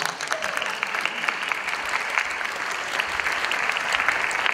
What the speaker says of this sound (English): Give an applause for that.